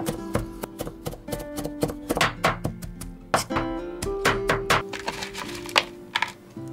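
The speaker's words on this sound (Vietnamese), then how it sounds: "Tỏi cho vô nước mắm thì các bạn nhớ là mình băm nhuyễn một chút ha" Garlic minced with a knife on a cutting board for a sweet-sour fish sauce, rapid, close, irregular chopping taps in quick bursts throughout.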